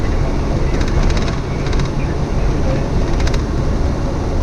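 Steady low rumble and clatter of a train rolling forward, with faint metallic squeals over the continuous roar.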